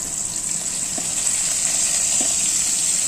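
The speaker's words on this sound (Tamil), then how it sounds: "கடுகு நல்லா பொரிஞ்சு வரட்டும் இதுக்கடுத்து நாம் வெங்காயம் போட்டுடலாம்" Mustard seeds, curry leaves and onion frying in hot oil for sambar give a steady, loud hiss and sizzle, with a couple of faint pops over the constant frying noise.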